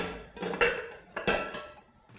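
A plate set down with a clatter in a kitchen while eggplant is being cooked, two close, sharp clinks about half a second apart over a quiet background, with no talk.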